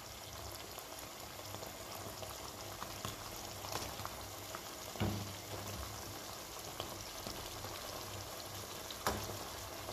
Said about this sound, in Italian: adesso posso spegnere il gas sotto la pasta e scoliamo le farfalle in padella